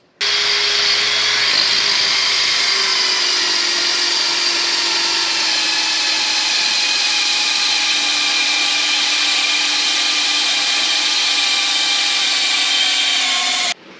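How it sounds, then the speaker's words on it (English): A power drill bores out holes in an ATV frame for mounting a winch, running as one loud, continuous whine whose pitch slowly falls as the bit works through the metal, close and uninterrupted. "I'm just drilling out these holes."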